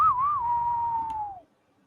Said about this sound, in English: And there's this famous whistle.